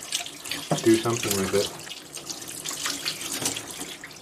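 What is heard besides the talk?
running tap water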